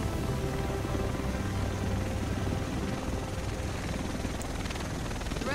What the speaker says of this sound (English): The rest of us should be in this chopper.